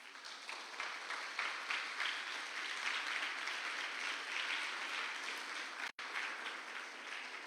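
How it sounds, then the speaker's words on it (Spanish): Congregation applauding God during a church service, a full, even round of clapping sustained for several seconds with a brief dropout near the end before resuming. "Denle un aplauso a Dios"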